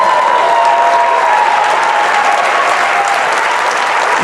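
An audience claps in steady, dense applause that stays loud and close throughout, with no break in the clapping.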